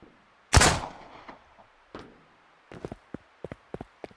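A single sharp gunshot cracks loudly and echoes in the video game Miscreated, followed by a scattered series of quicker, lighter pops and clicks.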